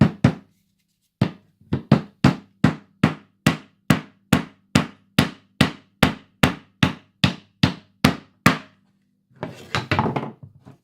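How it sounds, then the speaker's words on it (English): A hammer made of paper drives nails into wood, about twenty sharp, evenly spaced knocks in a steady rhythm, close and loud, followed by a short scuffling rustle. "We've established it can hit nails into wood made out of paper"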